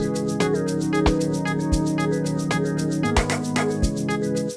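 A wood block percussion sample knocks in short, dry hits layered over a shaker groove, piano chords and deep kicks in an FL Studio amapiano beat, loud and close.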